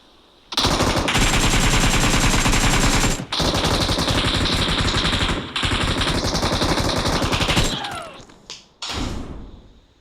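Rapid automatic gunfire from a video game shooter fires in long, loud, sustained bursts, broken by short pauses and ending in a few scattered shots, with no talking.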